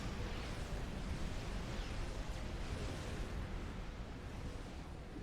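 A nuclear missile explosion in a real-time strategy game, heard as a steady, rumbling roar that holds at even loudness throughout with no distinct onset.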